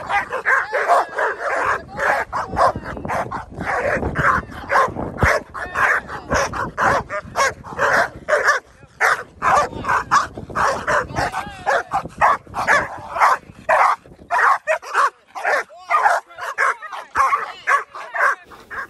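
Several young, high-drive K9 dogs around 8 to 19 months old bark continuously and loudly at close range, the barks overlapping in a rapid, dense volley with occasional yips and whimpers mixed in.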